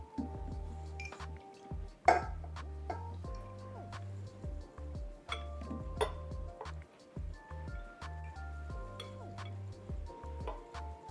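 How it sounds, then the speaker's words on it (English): Water beads drop into a vase one after another as a series of small, close clinks and wet drips with uneven rhythm, with no talk. "And now I'm going to add some more water beads."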